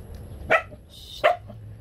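A dog barks three times in short, sharp yips spaced under a second apart, fairly close and alone against quiet background noise.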